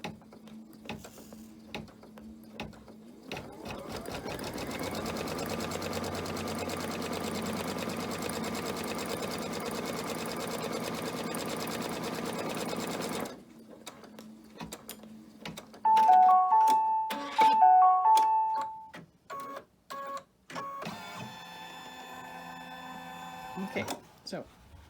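A sewing machine stitches fabric strips for a Fourth of July flag banner, running in one long steady buzzing burst, then stopping; later come a few short clicks and brief motor runs, with no voices.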